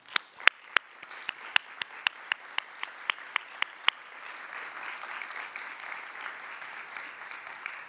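Round of applause at a nursing education association's annual business meeting as editorial board members stand, opening with a few loud, distinct single claps that grow into steady, sustained clapping from a large audience.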